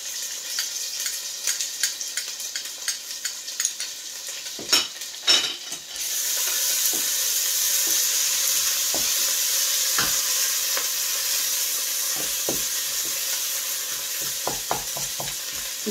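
Onions, ginger and garlic sizzle in desi ghee as a steady frying hiss, with a few clattering stirs early on and scattered light taps from the pan later.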